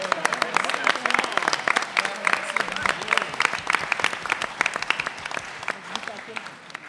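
An audience applauds speaker Quentin at a Pecha Kucha event, with crisp individual claps standing out in a moderately dense, slightly uneven round that carries on for several seconds with no speech over it.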